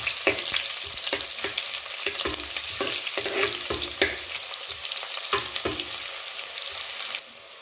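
Whole spices fry in hot oil in a pan with onion: cinnamon, cloves, cardamom and bay leaf give a loud, continuous crackling sizzle with frequent pops and stirring scrapes, cutting off abruptly near the end.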